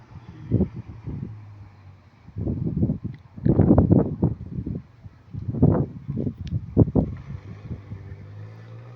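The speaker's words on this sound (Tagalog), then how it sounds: "Lakas ng hangin." Strong gusts of wind on a rooftop terrace buffet the microphone in heavy bursts, rising and falling roughly every second or so with rumbling low thumps between quieter lulls, no voices.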